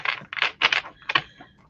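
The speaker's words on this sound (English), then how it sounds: "I have a hard time shuffling." A big deck of cards is shuffled in a few quick riffling bursts, close and crisp, separated by brief pauses.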